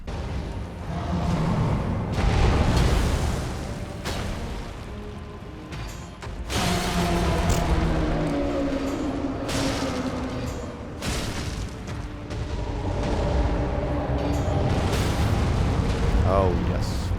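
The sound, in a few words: fire chant weapon skill explosions in a video game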